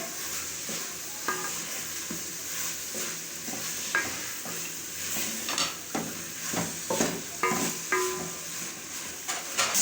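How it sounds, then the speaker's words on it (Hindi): Ingredients for Chinese pulao being fried and stirred in a pot make a continuous sizzle, with repeated scraping and clinking of a utensil against the metal throughout. "दो मिनट लगे भूनने पे।"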